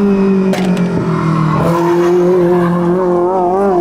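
A loud Opel Corsa race car engine revs continuously on a race track with steady high-pitched whine and shifting pitch, punctuated by brief sharp bursts, no talking.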